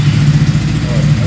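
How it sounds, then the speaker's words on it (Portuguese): A motorcycle engine just started and idling at about 2000 rpm, a steady low, even throb close by with no revving and no talk over it. "Liguei a minha moto, ela está marcando aqui nesse momento 2000 rotações por minuto"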